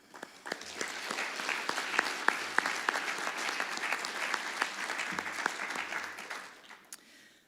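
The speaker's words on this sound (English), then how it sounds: "So give yourselves a round of applause for that." An audience at a business awards gala breaks into steady, full applause from many hands, swelling quickly, holding strong for several seconds, then tapering off at the end.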